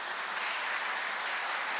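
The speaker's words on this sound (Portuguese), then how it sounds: "Aleluia, aplauda ao Senhor nesta noite." Church congregation clapping together during a service, a dense, even wash of applause sustained across the whole clip at moderate level with no voices on top.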